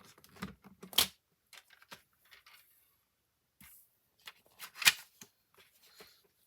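Paper being cut to size for a crafting machine: a few crisp snipping, rustling bursts, two of them sharper and louder, separated by quiet pauses, with no talking.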